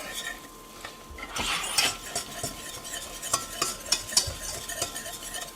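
Whisk scraping and stirring sauce in a Dutch oven, quiet at first, then a run of irregular clinks and swishes of metal against the pot, close and fairly soft, with no talk.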